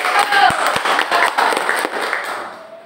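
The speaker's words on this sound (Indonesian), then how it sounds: "Kita beri aplaus." Audience applause after a presentation, a dense patter of many hands clapping at moderate distance, steady then gradually fading out.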